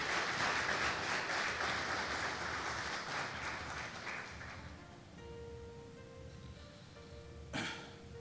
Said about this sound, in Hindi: जोरदार तालियां खुदा के रूह के लिए